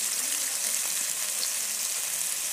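Green chillies hit hot oil for a tomato chutney, giving a steady, fairly soft hiss and crackle of frying that runs evenly throughout with no talk.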